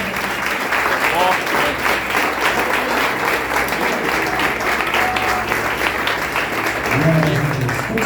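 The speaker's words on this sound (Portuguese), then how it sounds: "Dê uma salva de palmas ao Senhor." A church congregation claps steadily and continuously, a dense wash of applause with a voice faintly audible underneath.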